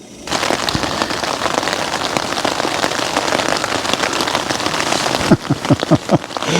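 Rain pours steadily on the ground and a tent during stormy weather while wild camping on Dartmoor, a dense close hiss with pattering drops, then a few louder thumps near the end.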